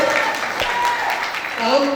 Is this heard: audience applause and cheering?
yes